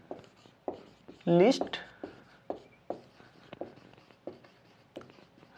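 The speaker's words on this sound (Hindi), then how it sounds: "मैं लिख दे रहा हूं यहां पर" Marker or chalk scratches across a board during a Class 10 maths lesson on real numbers, short repeated strokes under a teacher's speech.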